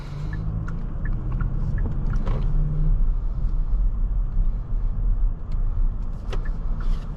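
Cabin sound of a 2022 Kia Stinger GT-Line on the move: a steady low engine and road rumble with faint tyre noise and occasional small clicks and rattles from inside the car.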